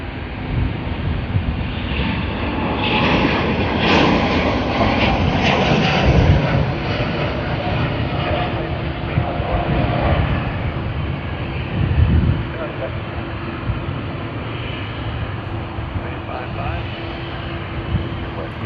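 Vietnam Airlines jet taking off from Sydney Airport in wind, a broad steady engine roar with wind buffeting on the microphone, swelling around the middle, with voices talking over it.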